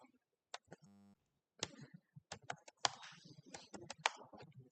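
Close, quiet clicks of typing on a computer keyboard, arriving in uneven bursts of keystrokes with brief pauses and one short electronic tone early on.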